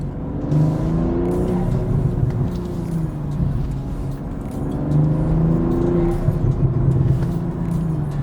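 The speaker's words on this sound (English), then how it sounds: "You hear the blow off much better from the turbo" A BMW M240i (G42) with downpipe and Eventuri intake revs hard and climbs through the gears, with sharp whooshing turbo blow-off bursts between pulls.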